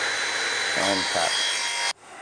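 A power saw cutting a wooden knife block piece, a loud continuous whine with a rasping pass of the blade through the wood before the motor cuts off abruptly, with brief speech underneath.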